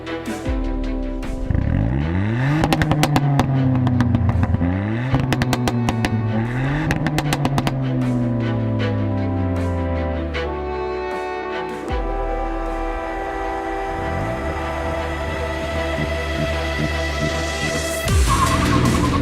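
A Ford Fiesta ST Mk8 accelerating hard in a drag race, the engine revving up through repeated gear changes, loud and close, with a second run building again near the end.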